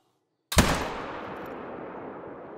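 A single sharp rifle shot in theHunter Call of the Wild hunting game, fired while hunting warthogs at dusk, cracks out loudly after a moment of silence and trails off in a long, fading echo.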